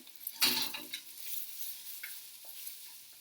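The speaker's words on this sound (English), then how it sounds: "You're getting a nice sizzle." Pieces toast and sizzle in a pan as they are stirred, with a sharp scrape of the utensil near the start and then a soft, steady frying hiss broken by light clinks.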